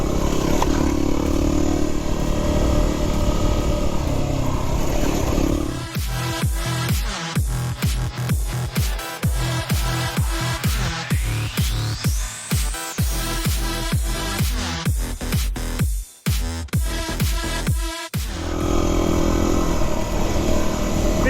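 A Yamaha WR250R dual-sport motorcycle engine runs steadily and loud while riding, then breaks into repeated sharp revs and gear shifts with clattering, close by, before settling back to a steady drone.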